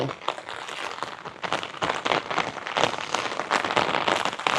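Heavy rain pours steadily during a flood, a dense, continuous hiss with crackling drops on surfaces, loud and close throughout with no clear voices.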